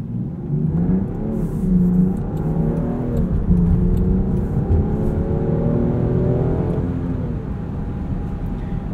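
A 2020 Land Rover Defender 110 SE drones steadily under acceleration from inside the cabin, its engine tone rising gradually with a low rumble and road noise throughout.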